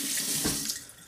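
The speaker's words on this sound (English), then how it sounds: "I'll wait till the water stops." Water runs from a tap into a sink in a steady, bright rushing stream, loud and close, with no voices.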